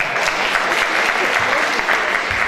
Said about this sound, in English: give it applause for that